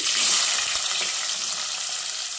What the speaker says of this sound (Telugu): ఆనియన్స్ మనకి కలర్ మారేదాకా ఫ్రై చేసుకోవాలి.